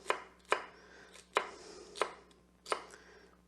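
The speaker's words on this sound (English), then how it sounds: "you do want them chopped up fine enough, small enough that you get a piece of celery in every spoonful of your salad" A knife chops celery on a cutting board for a green pea salad, giving five or six crisp, close knocks at an uneven pace, with quiet pauses between them.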